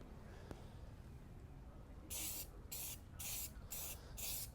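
A can of Krylon spray paint fires five short, loud, evenly spaced hissing bursts while coating a Boba Fett helmet in humid air, after a few seconds of quiet room tone.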